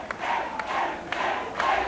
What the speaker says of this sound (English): The crowd starting to yell, Dewey,